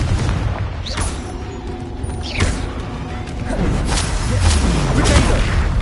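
Spell blasts from the Confringo fire curse in the Hogwarts Legacy video game, a busy stream of booming impacts and whooshing casts layered with music and other combat effects.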